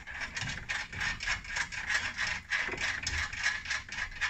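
A ratchet wrench turns a half-inch fastener while a hidden winch kit is installed on a 2013–2018 Ram 1500 pickup, a close, steady run of rapid metallic clicks in a regular back-and-forth rhythm.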